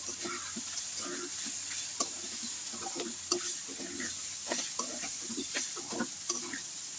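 Panch phoron and sweet cumin stirred in a pan with cauliflower, a soft background sizzle broken by irregular scrapes and taps of a spoon against the pan.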